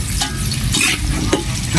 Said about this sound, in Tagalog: Yan, mainit na yung mantika. Iprito na natin itong patatas.